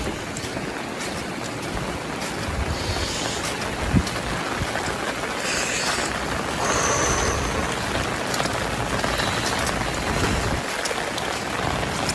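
Steady rain falls at a rural village home, a dense, even hiss of drops on surfaces filling the whole stretch, with one brief thump partway through and no voices.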